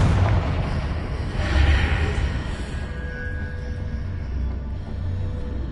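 A Confringo blasting curse detonates in Hogwarts Legacy, a loud booming burst at the start that swells again shortly after, then fades into a low rumbling tail under game ambience.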